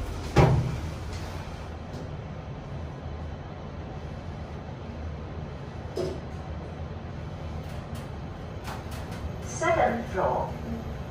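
Doors of a KONE MonoSpace machine-room-less service lift slide shut with a soft mechanical whir, followed by a faint thud and a low hum from the lift.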